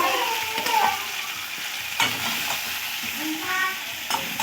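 Chicken pieces frying in a pan, a loud continuous sizzle with bursts of stirring and scraping, a few sharper spatula knocks punctuating the hiss.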